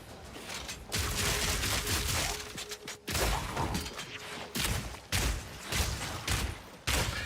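Grenade blasts in Path of Exile 2 go off in quick succession, loud and dense with crackling bursts and mechanical clatter filling most of the stretch, with brief gaps between volleys.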